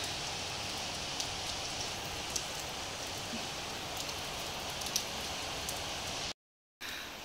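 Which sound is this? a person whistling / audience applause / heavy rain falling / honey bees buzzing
heavy rain falling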